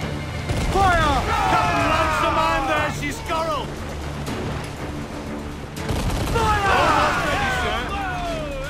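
Ship cannons fire during a naval battle in Assassin's Creed IV Black Flag, with booming shots and crackling bursts under loud shouting voices and battle noise.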